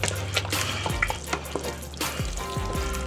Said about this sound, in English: Stir that up real good and get all that mixed in together.